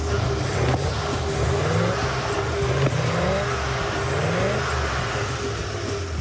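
A Ford Mustang engine runs steadily and loudly throughout, a continuous low rumble with slight rises in revs, close by and with no talking.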